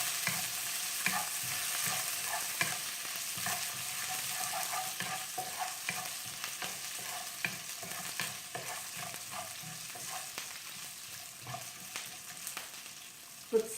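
Poha being stirred in a frying pan, with a continuous soft sizzle broken by frequent scraping taps of a spoon against the pan, close by and unaccompanied by talk, ending on a sharper knock.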